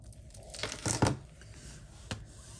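Quick crisp snips and crinkly rustling as the edges are trimmed off a piece of paper card, fairly quiet and close, with a louder burst in the middle.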